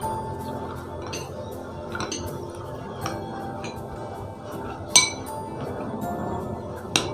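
A spoon clinks against a cup while mixing a batter of plain flour, cornflour and water, giving soft irregular taps and scrapes with a few sharper clinks near the end, close and fairly quiet, with no talk.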